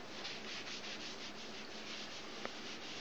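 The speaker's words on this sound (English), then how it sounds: "you just kind of rubbing it in best you can, just in a sort of, again, circular motion" Self-tanner being rubbed onto an arm with a mitt, a close, steady soft rubbing and swishing in circular motions with a faint regular pulse and one tiny tap near the end.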